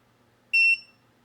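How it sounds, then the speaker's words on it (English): A single short, high electronic beep, sharp and clear, ringing out briefly against near silence. "It's gonna make horrible beeps."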